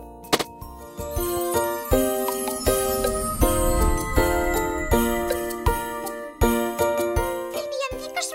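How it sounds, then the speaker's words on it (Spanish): A toy in a toy world jingles a Christmas carol as a bright, tinkling chime melody with regular ringing notes, loud and close throughout. "¡El villancico suena por allí!"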